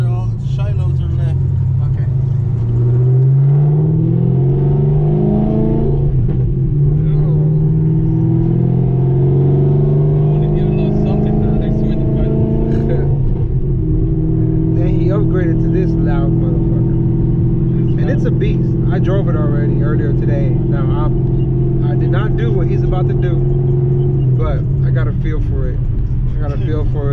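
Loud Chevrolet Camaro ZL1 V8 heard from inside while riding, a heavy low rumble that climbs through revs and shifts, with voices talking over it.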